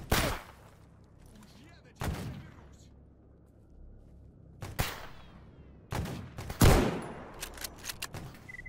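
Gunfire from the video game S.T.A.L.K.E.R. GAMMA: several sharp separate shots and short bursts ring out at irregular intervals, each with a brief decaying tail, while quiet background hum fills the gaps.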